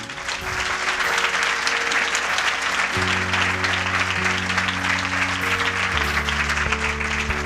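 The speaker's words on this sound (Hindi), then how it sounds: "यदि आप खुश हैं तो यीशु के लिए ताली बजाएं।" A church congregation claps during a Hindi sermon, sustained and dense across the whole stretch, with steady musical tones from instruments or a keyboard playing underneath.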